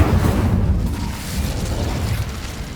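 The Incendio fire spell in Hogwarts Legacy bursts out as a loud, dense whooshing roar of flame that stays heavy and rumbling for a few seconds before easing slightly.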